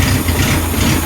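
A car engine runs steadily with a loud, continuous low rumble and drone that holds even throughout the short stretch, with no talk over it.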